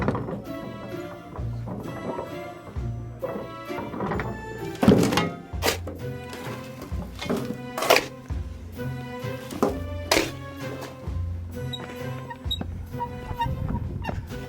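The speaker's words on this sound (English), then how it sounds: "Just going to get some more of this mud out." Trowel scooping wet concrete mortar out of a tub while laying the last bricks, giving repeated loud, close thunks and scrapes at an uneven rhythm over steady background noise, with no talking.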